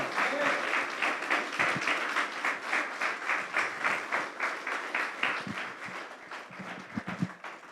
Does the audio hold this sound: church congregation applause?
yes